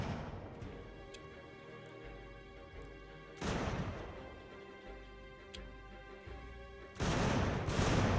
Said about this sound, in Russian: вон там начинается стрельба